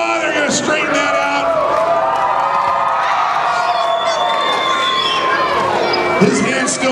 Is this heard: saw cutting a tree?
no